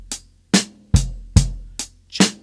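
Slow beginner-level drum kit rhythm on a snare drum, six sharp hits at an unhurried pace with some accents landing alongside low bass drum thumps, played close and clear with no talking.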